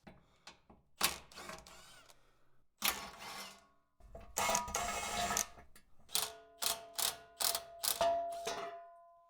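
A hand ratchet works on the bolts of a Jeep LJ Rubicon transmission skid plate, sounding in quick clicking bursts and pauses. A final run of evenly spaced loud ratcheting strokes closes the sequence.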